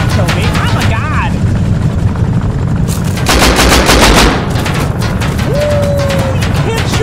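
Gunfire in the video game Rust amid a swarm of attack helicopters: loud, dense rapid machine-gun bursts over a constant rotor drone, with a voice shouting over the barrage.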